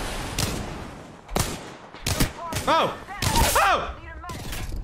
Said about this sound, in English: Oh, we're getting shot behind.